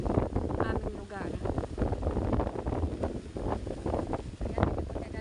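Strong wind during a storm at sea gusts and roars loudly into the microphone, with turbulent rough water beneath and a voice talking over it.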